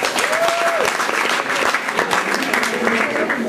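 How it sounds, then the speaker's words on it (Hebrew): Loud, dense applause from an audience at a Purim play, with a brief whistle-like tone near the start and some voices mixed in. "תנו לו בבקשה כפיים."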